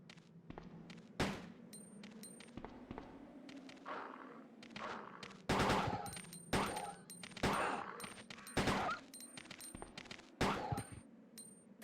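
Repeated handgun shots in the survival horror game Resident Evil 2, sharp broadband cracks fired in an irregular volley of about ten reports over a low, steady ambient drone, some shots close together and others spaced apart.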